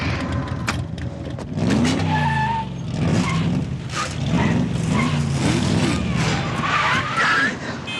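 A high-performance race car on a test drive, engine revving and tires squealing in short bursts as it slides through turns, with a voice talking over the driving.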